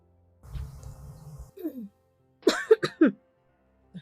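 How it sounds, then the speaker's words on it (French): A few harsh coughs close to the microphone, with a throat-clearing rasp and some brief vocal sounds between them. "Pourquoi je tousse beaucoup?"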